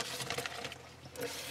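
Acetate sheets slide out of plastic packaging, giving a string of close, soft crinkling and rustling scrapes that come and go in short bursts.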